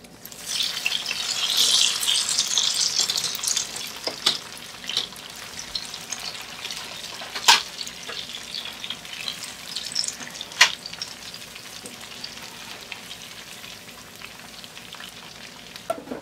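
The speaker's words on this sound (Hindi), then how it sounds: "देखिए, मैं हाफ बैच को रीफ्राई कर रही हूँ" Battered chicken pieces for General Tso's chicken re-frying in hot oil, a steady close sizzle with bursts of bubbling and a few sharp utensil clinks.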